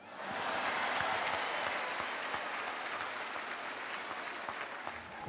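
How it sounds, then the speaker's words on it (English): Large crowd in Kenya applauds and cheers Pope Francis, steady dense clapping with a wash of voices, held evenly throughout at a moderate distance. "the crowd went wild"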